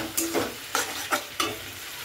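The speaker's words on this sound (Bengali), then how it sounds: "কষিয়ে নিচ্ছি ভালো করে।" Ground cumin, coriander and chilli powder with salt, turmeric and a little sugar fry in a pan. Several quick scraping stirs cut through a continuous sizzle, close and fairly loud.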